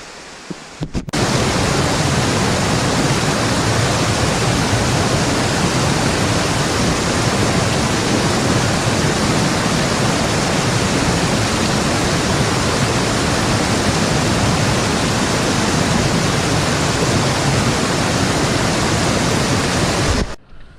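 Rushing mountain brook water at the Lincoln Brook crossing in the White Mountains near Owl's Head, a loud, steady broadband roar running continuously for about twenty seconds, with no voices.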